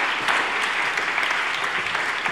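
Steady applause from an audience fills the whole stretch, dense clapping at an even level with no voices over it.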